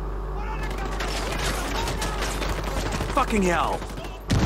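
Gunfire from Ghost Recon Wildlands crackles in a rapid run of shots over a low steady rumble, while a voice shouts partway through.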